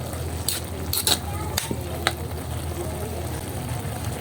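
Fish sauce being stirred into a smoky macaroni dish in a pan, with a few scraping clinks of the utensil over a steady frying sizzle.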